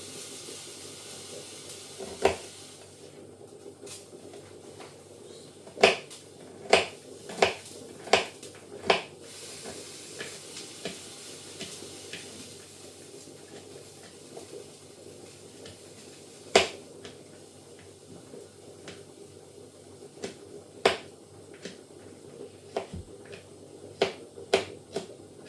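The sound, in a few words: chopping garlic with a knife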